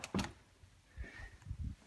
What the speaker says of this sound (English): we can just lift directly up on the door panel